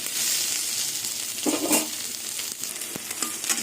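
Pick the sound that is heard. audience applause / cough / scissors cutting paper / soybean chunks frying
soybean chunks frying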